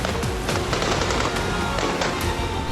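Soldiers fire guns in a street during a celebration after Sheikh Hasina was overthrown. Rapid, crackling shots burst continuously at close range, dense and loud, with no voices.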